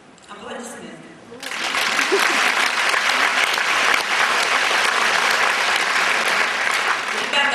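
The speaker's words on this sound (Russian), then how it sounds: "Жидкие аплодисменты ваши" A brief stretch of talk gives way to applause from a seminar audience at an Oriflame directors' seminar. The many hands clap in a dense, even patter that swells in quickly and then holds steady to the end.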